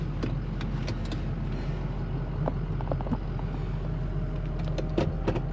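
A 2004 Ford Excursion XLT with the 6.0L Powerstroke diesel and 4WD drives along with a steady low engine drone and road rumble heard from inside the cab, with a few small clicks and rattles over it.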